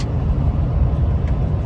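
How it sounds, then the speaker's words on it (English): Scaffolding delivery trucks with gasoline engines arrive, giving a steady, close, low engine rumble with no pause and no talking. "So yeah, the trucks are here."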